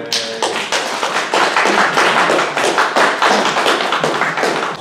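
Audience applause from a group gathered for a historic vehicles talk, a steady burst of many hands clapping close and loud for several seconds with no talking over it.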